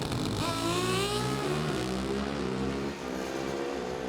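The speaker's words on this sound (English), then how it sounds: "your first ever 200-mile-an-hour run on a Pro Stock motorcycle" Pro Stock motorcycles launch hard in a drag race, a loud, continuous engine roar with rising pitch as they accelerate away, sustained for the whole stretch with no talk over it.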